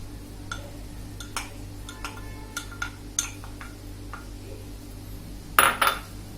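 Chopped tomato added to a ground-masala mixture in a pan for kadai paneer: a series of light, separate clicks and taps, then a louder double clatter of utensil on vessel near the end.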